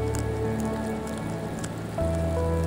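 Sleet patters down steadily in wild Scottish woodland, a dense, even hiss of small hits that continues without a break under a soft musical backdrop.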